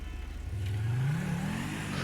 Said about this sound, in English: It's got a good exhaust note on it.